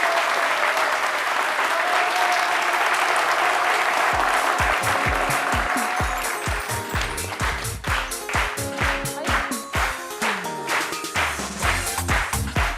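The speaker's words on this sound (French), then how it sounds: "Vos applaudissements s'il vous plaît, mesdames et messieurs," A television studio audience on the show C'midi bursts into sustained applause to welcome a guest, a dense wash of clapping that turns into sharper, more distinct claps toward the end.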